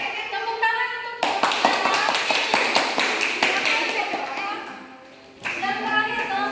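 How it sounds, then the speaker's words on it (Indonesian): Classroom applause during a student micro-teaching lesson, a dense burst of many hands clapping close by that runs for about four seconds, with children's voices chattering before and after. "Tepuk tangan untuk"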